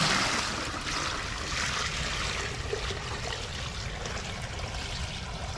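Water is poured out for ducks outdoors, a steady splashing trickle that runs continuously at moderate loudness, with no voices over it.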